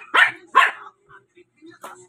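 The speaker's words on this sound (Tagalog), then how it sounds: "Naglalaro ng dalawang aso." Two dogs at play bark close and loud, two sharp barks in quick succession followed by a pause and a few softer yips and a final bark.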